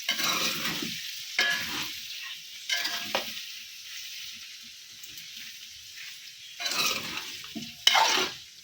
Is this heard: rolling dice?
no